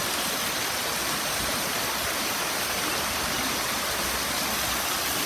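A river near Ubud runs low in the dry season, its water rushing in a steady, close, unbroken wash with no other sounds.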